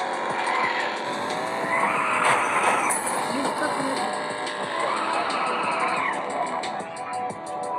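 A car drifts in a racing game played on a tablet, engine whine and tire squeal rising and falling in two long swells, moderately loud, with a voice talking over it.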